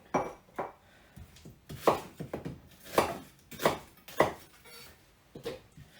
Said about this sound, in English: we just want to sort of roughly chop that